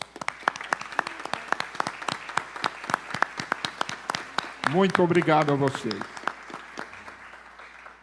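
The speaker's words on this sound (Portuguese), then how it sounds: "Uma salva de palmas." An audience at a formal anniversary session of a São Paulo printing-industry union claps in a steady ripple of many hands. Someone speaks briefly over the clapping midway, and the applause then fades.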